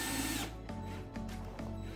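A power drill whines briefly, pausing and revving again in short bursts, close and fairly quiet, as it drives screws into Azek deck boards.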